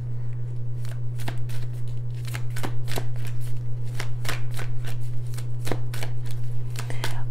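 Rapid riffle-shuffling of playing cards, crisp repeated fluttering bursts over a steady low hum, close and fairly loud, with no talking.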